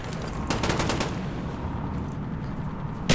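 Rapid automatic gunfire from the video game Call of Duty Black Ops rattles close and loud in a fast stream of shots that fades into a noisy rumble.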